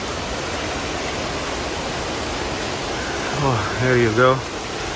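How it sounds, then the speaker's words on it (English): Ponmudi waterfall in Kerala, India gives a steady, hissing rush of falling water that fills the background at moderate distance, while a voice speaks briefly near the end. "I think we are getting to the waterfalls by the sound of it."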